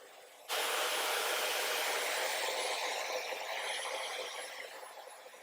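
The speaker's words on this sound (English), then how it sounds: "I'm using my diffuser. Can be low pressure and low heat." A hair dryer with a diffuser on low pressure and low heat switches on after a brief pause, then blows a loud, steady airy whoosh that eases slightly toward the end.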